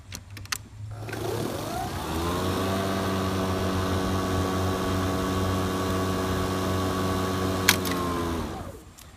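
A Kobalt battery-powered electric lawn mower spins up with a rising whine, then runs at a steady, even hum for about six seconds before winding down, with a couple of clicks at the start and end.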